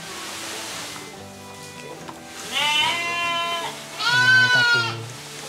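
Dorper sheep on a farm bleating twice, loud and close, wavering calls over a low background hum and faint rumble.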